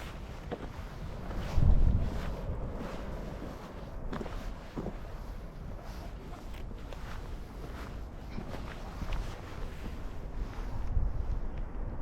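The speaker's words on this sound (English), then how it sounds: "Quite windy." Steady outdoor wind at a scenic viewpoint in Portugal, rumbling and buffeting the microphone throughout with stronger gusts near the start and end, with no talking.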